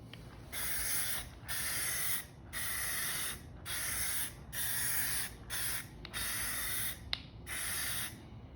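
Rust-Oleum high heat spray paint hisses from an aerosol can onto a Jeep TJ 2.5L four-cylinder exhaust in eight close, loud bursts of about a second each, separated by short pauses.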